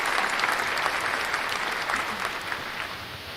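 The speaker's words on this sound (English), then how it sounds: "I could think about giving you the claps." A room full of people clapping steadily for a few seconds, dense and even, then gradually thinning out.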